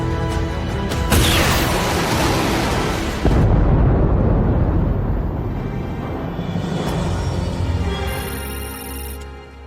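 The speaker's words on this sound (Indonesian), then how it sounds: "memerintahkan anak buahnya menembaki markas pasukan BW dengan roket yang telah dia bawa" Rockets hit a military base in an action film, setting off heavy explosions. Loud booming blasts land near the start and again a few seconds later, each trailing into a long, rumbling roar that slowly fades.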